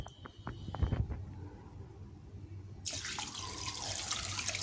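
Water splashes and pours out in a steady rush after a few drips and clinks, fairly close and moderately loud, as cooking water is drained off boiled spinach.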